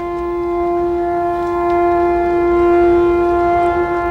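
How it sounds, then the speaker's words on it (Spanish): A memorial siren sounding in Nagasaki, one sustained steady wail with a strong harmonic tone, held unbroken throughout and moderately loud, heard alone without voices. "una sirena suena y un minuto de silencio rememora la explosión."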